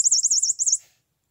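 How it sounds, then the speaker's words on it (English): A pet mouse gives a run of rapid, high warbling chirps, about seven quick wavering notes close to the ear, then falls silent. "if you know why this mouse chirps instead of squeaks"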